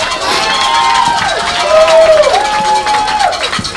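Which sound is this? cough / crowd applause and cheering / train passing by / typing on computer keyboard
crowd applause and cheering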